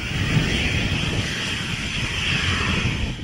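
A jet engine-powered flight suit roars in a loud, steady, broadband rush of turbine noise, close and continuous with no pauses.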